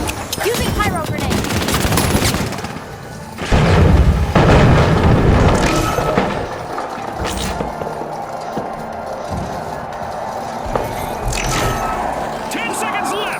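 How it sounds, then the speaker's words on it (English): Explosive booms and bursts of rapid gunfire from a pyro grenade fight in the shooter game The Finals, loud and dense, with a heavy blast around the middle over continuous battle noise. "Using pyro grenade."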